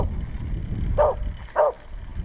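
A dog barks twice from a short distance on a rural road, two brief separate barks over a low rumble of wind or travel noise.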